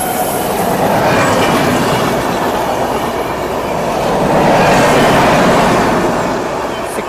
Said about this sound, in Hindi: क्या स्पीड मार रही ट्रेन भाई।